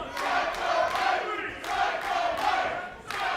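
A wrestling crowd at a tag-team match cheers and chants in loud rolling waves, swelling and dipping repeatedly with no commentary over it.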